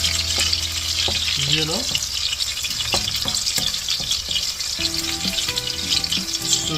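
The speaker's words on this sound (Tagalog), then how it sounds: "Tignan lang natin hanggang maging golden brown ang ating bawang." Garlic frying in a pan while a Filipino stir-fry fish fillet is being cooked: a steady, loud sizzle and crackle runs throughout, with occasional stirring clinks and someone speaking briefly over it.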